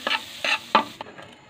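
Butter melts and sizzles in a pan for chicken buko pancit while a spatula gives three quick scraping stirs, close and distinct. A softer, fading sizzle follows.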